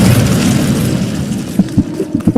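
Incendio fire spell cast in Hogwarts Legacy, a loud whooshing burst of flame that fades into sharp crackles and thumps, heard without talking.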